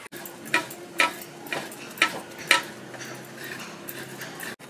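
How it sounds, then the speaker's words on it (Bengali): Fresh coconut is grated by hand in a home kitchen: five or six rhythmic scraping strokes about half a second apart, close and fairly quiet over a faint background hum. "বহুত দিন পর নারকেল কোড়াচ্ছি তো হাত ব্যথা হয়ে যাচ্ছে।"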